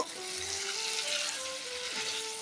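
Spice masala cooked with curd sizzles steadily in a pan as it is stirred, a close, even frying hiss with a faint tone running underneath and no voices.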